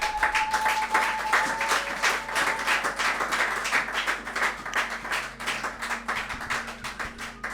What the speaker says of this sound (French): Est-ce qu'on peut acclamer pour Jésus-Christ?